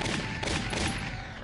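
Rapid gunfire in the war video game Valkyria Chronicles, a dense burst of overlapping shots rattling loudly over a short span with no talk.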